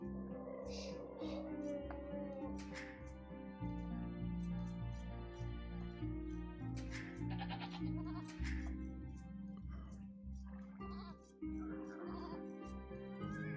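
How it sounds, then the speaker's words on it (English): Sheep bleating in the Age of Empires 2 strategy game, short bleats popping up over a busy bed of game music and effects, with no talk during the clip. "Yeah, he's taking a sheep now."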